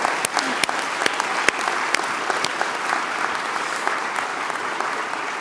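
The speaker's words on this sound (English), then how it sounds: "We'll clap for them all at once." An audience at a university presidential inauguration claps together in sustained, even applause, close and fairly loud, with a few sharper individual claps standing out.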